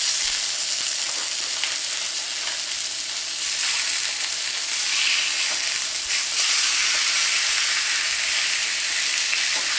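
Pork shoulder sears in hot oil in a pan, a loud, steady crackling sizzle with bursts of hiss that runs continuously and close throughout, with no talking.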